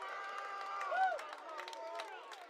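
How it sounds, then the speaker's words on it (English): A baseball crowd at a Bend Elks versus Ridgefield Raptors game applauds a batter, steady distant clapping and murmuring from the stands that swells briefly, with a voice talking over it. "Cahill gets a large round of applause"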